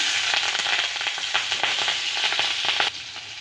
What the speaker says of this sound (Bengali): এবার ওই তেলের মধ্যে দিয়ে দেব গোটা সাদা জিরে, দিয়ে দেবো চেরা কাঁচা লঙ্কা